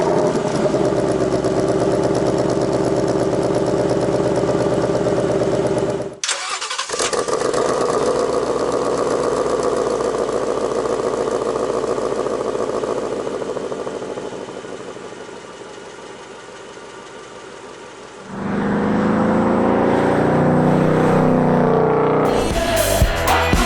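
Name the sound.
2019 Ford Mustang Bullitt engine sound, quiet start versus normal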